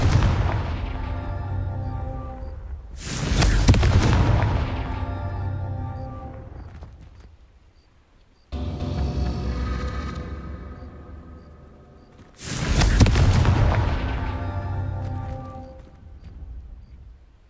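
Two heavy Confringo spell blasts in Hogwarts Legacy land several seconds apart, each a booming explosion with a long ringing tail. A quieter burst falls between them.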